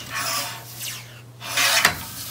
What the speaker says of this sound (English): I'm going to trim a little of that excess off